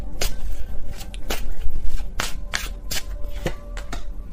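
Tarot cards being shuffled by hand, a loud, close run of rapid riffling bursts and soft papery slaps that repeats steadily with no talking.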